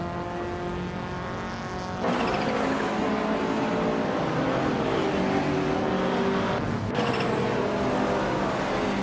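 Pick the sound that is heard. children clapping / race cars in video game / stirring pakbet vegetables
race cars in video game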